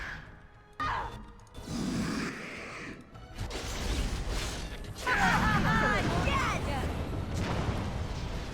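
Explosions during a Dragon Age: Origins battle in the Circle of Magi, sharp crashes and booming bursts mixed with clanking game action, heavier in the second half, with voices talking throughout.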